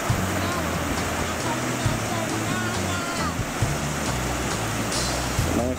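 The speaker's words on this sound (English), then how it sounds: "Nice waves." Ocean surf rolls in continuously at Sandy Bay, Whangarei, New Zealand, making a steady broadband wash with low rumble throughout. Occasional voices and outdoor noise sit underneath.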